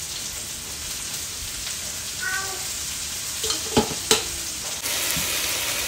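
Carrots and green beans frying in a pan, a continuous crackling sizzle with a few clinks and scrapes of a utensil against the pan partway through.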